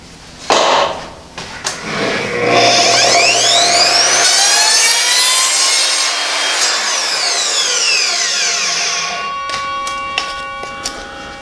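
An Evolution R255SMS saw slices through 2-inch Schedule 40 PVC pipe in one loud, continuous cut lasting about nine seconds, the blade whine rising as it bites into the plastic and then spinning down with a few clicks at the end.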